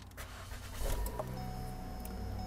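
A 2008 Mercury Mariner is started, with a short starter crank followed by the engine catching and settling into a quiet, steady idle inside the cabin.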